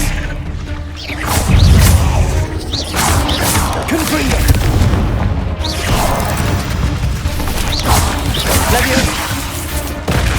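The Confringo blasting spell in the video game Hogwarts Legacy: repeated crashing explosions and whooshes in a dense, loud duel, with voices casting spells over the blasts.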